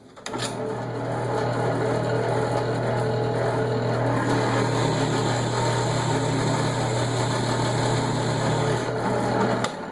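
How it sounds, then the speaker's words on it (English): A drill press driving a Forstner bit into wood to bore a countersink hole for a carriage bolt, a loud steady motor whine with a constant low hum, running close and unbroken for the whole stretch. "so the first thing we want to do is bore a hole so we can countersink the head of the carriage bolt. I'm just using a Forstner bit here."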